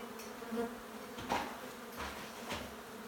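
Agitated honey bees swarm around a large hive on a house, a dense continuous buzzing drone with individual bees passing close by, steady and moderately loud with no talking.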